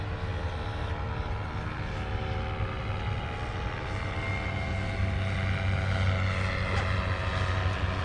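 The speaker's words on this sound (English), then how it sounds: "think I hear another crop duster taking off right now" A steady propeller-engine drone hums continuously, a low rumbling crop duster airplane taking off at moderate distance, swelling slightly louder toward the end.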